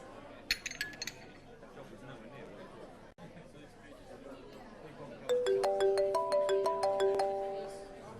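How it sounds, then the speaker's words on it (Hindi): A phone ringtone chimes in a repeating melodic pattern, loud and close, after a quiet stretch of room murmur and faint clinks. "अबीर का फोन है, मैं बात कर लेती हूँ।"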